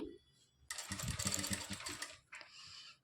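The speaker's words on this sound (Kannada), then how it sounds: "ಇಲ್ಲಿ ನಾನು ತುಂಬಾ ಹತ್ತಿರದಿಂದ ನಿಮಗೆ ಸ್ಟಿಚ್ ಮಾಡಿ ತೋರಿಸ್ತಾ ಇದ್ದೀನಿ" A sewing machine stitches thread piping onto a blouse neck, a close, loud mechanical whir of rapid stitching in one main run followed by a shorter burst, with no talk over it.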